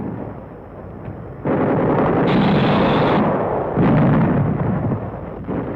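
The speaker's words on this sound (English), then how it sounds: "Heavy mortar and rifle fire blocks the approaches to the field" Heavy mortar and rifle fire in a World War II battle near an airfield, a dense continuous roar of blasts and gunfire, loud and sustained with surges in intensity.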